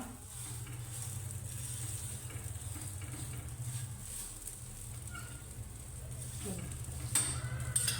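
A paratha fries in oil on a hot pan, giving a steady low sizzle with faint crackles that runs throughout.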